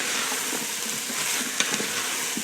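Seasoned food being stirred in an Instant Pot, a soft continuous sizzle with faint scraping and a few light clinks close by, no voices.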